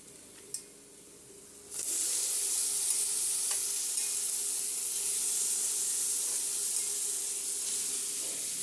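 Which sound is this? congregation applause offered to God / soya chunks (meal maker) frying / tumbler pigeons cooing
soya chunks (meal maker) frying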